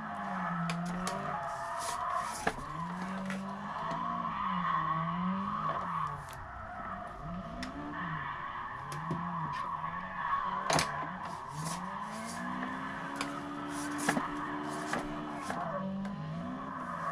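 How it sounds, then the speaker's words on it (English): Car tires screech and skid repeatedly while drifting in the CarX driving game, with sweeping, wavering squeals rising and falling over a steady engine drone. The loud, continuous sound is broken by a few sharp clicks. "Look at that sick drift."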